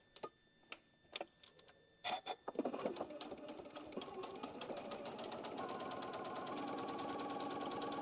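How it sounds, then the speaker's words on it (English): Sewing machine stitching very close along the edge of a butterfly oven mitt, a few short separate bursts at first, then a steady continuous whirring run that carries on to the end, close and fairly quiet, with no talking. "we're going to go right there along that edge, and we're going to stitch it real close to the edge."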